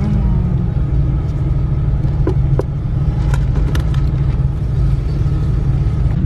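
A car pulls away on a road trip, its engine rumbling steadily at close range with a continuous low drone and a few faint clicks over the road noise.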